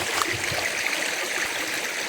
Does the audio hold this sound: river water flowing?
yes